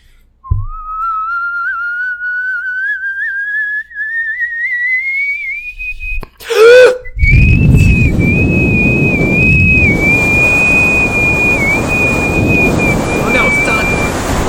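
A person whistles a rising, sustained tone imitating a coffee kettle, followed by a brief clatter and then a long steady whistle over breathy background noise.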